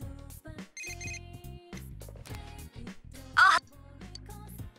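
A phone in Persona 4 Golden rings through a short run of electronic tones, a chirpy ringtone phrase with a louder burst near the end and no talk over it.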